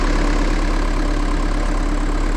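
A Land Rover Series engine running at a steady, loud idle right after being started, with a dense, even rumble close by and no voices.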